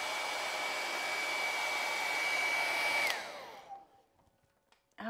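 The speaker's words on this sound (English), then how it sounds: "using the hairdryer not only sped things up" A hair dryer blows with a steady high whine for about three seconds, then switches off and its pitch winds down into quiet.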